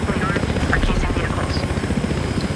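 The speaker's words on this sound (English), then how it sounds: "Golden helicopter." A golden helicopter in a first-person shooter video game, its rotor chopping loudly and steadily in a dense, close drone, with a voice talking over it.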